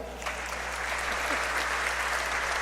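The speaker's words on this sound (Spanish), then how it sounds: "Den un aplauso a la novia" Applause for a bride in a church setting, an even wash of many hands clapping that swells in after a brief pause and carries on steadily over a low hum.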